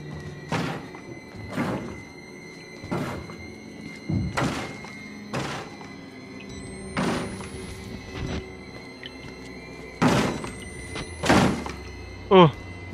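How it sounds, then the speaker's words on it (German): Heavy repeated thuds of something hammering against a door in the horror game Outlast, about ten dull blows at an irregular, roughly one-per-second pace, with game ambience underneath and a brief vocal sound near the end. "Da hämmert irgendwas gegen die Tür"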